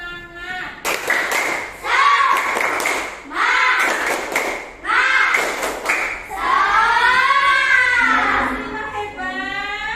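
Group performing a rhythmic spirit clap (tepuk semangat) at a school, with bursts of patterned clapping separated by short pauses while voices chant along between and over the claps.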